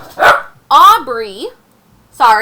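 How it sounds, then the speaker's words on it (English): A pet dog barks loudly and close by indoors during an online math lesson, with a few sharp barks in quick succession mixed with a person speaking. "excuse my dog's barking."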